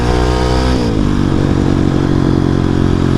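A Husqvarna 701 motorcycle engine revs loud and close, a steady roar that shifts pitch partway through as the throttle changes, with no talking.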